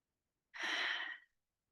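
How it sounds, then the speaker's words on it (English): A single deep exhalation, a soft breathy rush lasting under a second, close and alone against silence. "Let's take a deep breath in and let it out."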